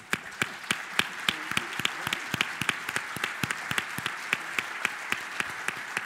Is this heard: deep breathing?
no